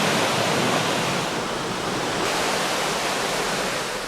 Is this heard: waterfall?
yes